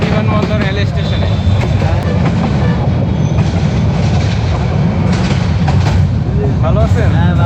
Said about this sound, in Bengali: তো আমাদের ট্রেন চলে যাচ্ছে, আস্তে আস্তে সামনের দিকে চলে যাচ্ছে।